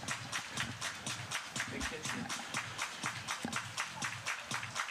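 A baseball crowd at a Swift Current 57s versus Regina Red Sox game claps in a steady, rhythmic unison beat, fairly distant and moderately quiet, with faint crowd murmur beneath.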